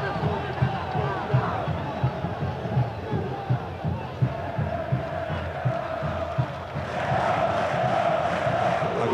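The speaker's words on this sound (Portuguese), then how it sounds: "Torcida da Portuguesa que está cantando alto aqui no Canindé" Portuguesa football supporters chant loudly at Canindé stadium in São Paulo during a 2008 Brasileirão match against Flamengo. The dense crowd roars in a pulsing rhythm, and commentary runs over the top.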